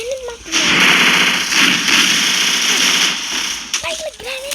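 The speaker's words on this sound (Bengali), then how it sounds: "ভাই গ্রেনেড মারতেছে গ্রেনেড কেন মারতেছে" Grenade blasts and crackling explosions in the mobile shooter game Free Fire, loud bursts filling the middle of the clip, with a voice speaking before and after.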